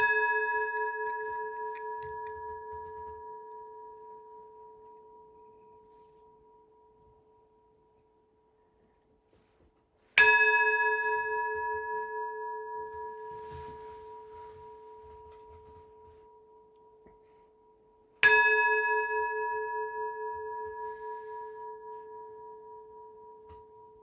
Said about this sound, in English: The sound of the bell, the sound of the great bell.